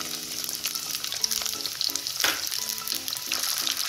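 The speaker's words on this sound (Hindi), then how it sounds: "जीरा भून लेने के बाद हम उसमें प्याज डालेंगे।" Chopped onions go into hot oil already holding toasted cumin seeds and dried red chillies, frying in a steady loud sizzle while a utensil stirs and scrapes the pan, with no talking.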